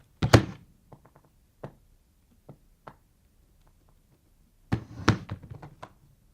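Foley thumps, knocks and taps for an animated suitcase: two clusters of solid hits with scattered lighter taps between them, close and dry against silence.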